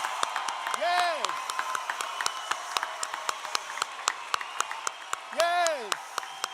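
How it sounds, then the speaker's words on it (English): A graduation audience at an arts and social sciences ceremony cheers and applauds, a steady dense wash of clapping with two rising-falling whoops or shouts standing out above the crowd. "let's give them the biggest cheer ever."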